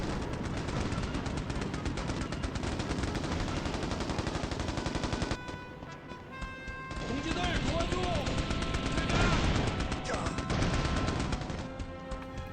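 Unlockable cheat weapons in a war video game fire loud, dense automatic bursts without letup. A brief lull near the middle is followed by more rapid fire mixed with heavy blasts.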